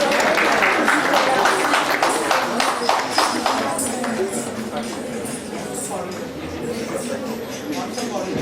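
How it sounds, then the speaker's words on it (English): Audience at an Independence Day cultural celebration applauds a contestant, a burst of clapping that fades into murmuring crowd chatter and voices. "Can we have a round of applause for her?"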